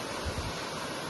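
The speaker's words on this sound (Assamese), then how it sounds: "এইফালে জলপ্ৰপাত পুৰা বৈ আহি আছে একদম" A waterfall pours steadily nearby, giving a continuous, even rush of water that holds at moderate loudness with no talk over it.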